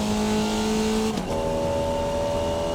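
A Formula Vee race car engine in the iRacing sim holds a steady buzzing drone, briefly dipping in pitch at a gear change before settling back to a constant high hum, close and continuous.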